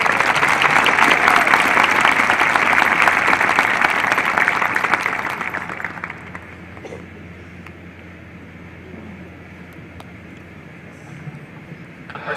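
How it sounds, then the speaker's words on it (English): Audience applause at a senior awards night, loud and sustained clapping for about five seconds before fading into quiet room noise with faint murmurs. "Let's give him a round of applause."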